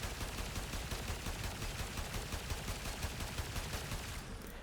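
Incarnon Braton rifle in Warframe firing continuously at full rate, a steady dense stream of rapid shots that stops abruptly near the end, with no talk.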